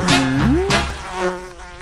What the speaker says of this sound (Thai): โถ่แมลงวันหรอกเหรอ